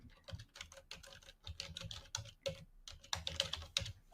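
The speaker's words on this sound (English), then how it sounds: "type in health" Quick bursts of computer keyboard typing, uneven clacking keystrokes close by as a short search term is entered, with brief pauses between the runs of keys.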